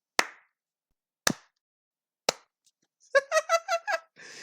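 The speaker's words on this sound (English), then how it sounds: "I'm slow clapping right now." Three slow, sharp hand claps spaced about a second apart ring out alone and fairly close, followed by a brief burst of speech.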